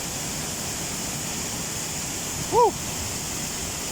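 A waterfall, reached by walking in behind it, gives a steady, broad roaring hiss throughout, with a brief excited shout rising over it partway through.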